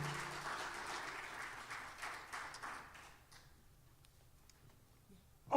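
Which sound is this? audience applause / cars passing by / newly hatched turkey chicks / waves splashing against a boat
audience applause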